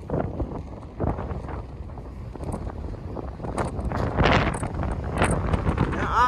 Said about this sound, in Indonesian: Ya, anginnya begitu besar.